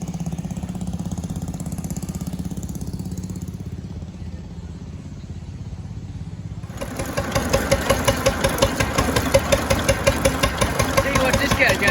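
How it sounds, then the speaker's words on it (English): An old engine at a threshers reunion chugs steadily while belted to drive a fan, its rhythmic knocking beat turning louder and harsher partway through as it bears down. "He got that engine hooked to this fan here."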